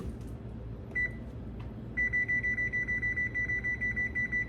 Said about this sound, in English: I'm gonna set a timer here